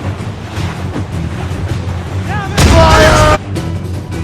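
Ship cannons in the naval game Assassin's Creed Rogue fire in a loud, roaring broadside that lasts nearly a second, set over the constant rumble of sea and wind, with a brief shout just before.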